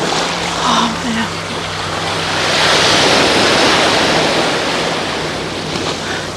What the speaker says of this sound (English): The sound of the water, the way the water caresses one's feet.